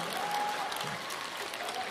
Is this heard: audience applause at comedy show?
yes